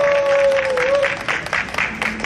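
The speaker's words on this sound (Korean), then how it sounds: "박수환호로 맞이해주시기 바랍니다." An audience greets a speaker at a disability rights gathering with clapping and cheers, loud close applause under a sustained whistle or tone at first, then thinning into scattered claps.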